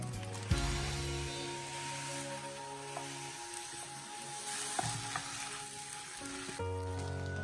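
Stir-frying preserved vegetable and egg fried rice with soy sauce in a hot wok, with a steady loud sizzle and scraping stirs, a burst of crackling near the start and fresh hissing surges as ingredients hit the pan.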